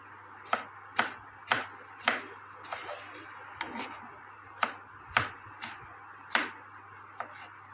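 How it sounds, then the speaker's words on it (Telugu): A knife cuts washed, dried tomatoes into pieces on a board, stems removed first. About a dozen sharp, close chops land at an uneven rhythm with no talking. "టమాటాలు కడిగేసి శుభ్రంగా తడి లేకుండా తుడుచుకొని ముక్కల కింద కట్ చేసుకోవాలండి"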